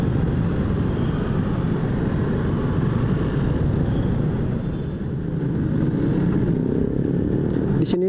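Stop-and-go city traffic jam full of motorcycles and cars, heard from a motorbike in the thick of it: a loud, steady roar of engines, road noise and wind rumble that continues without a break.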